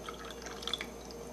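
Water being poured into a cup in a kitchen, a brief soft trickle with a few small bright drip-like plinks, faint and close with no talk.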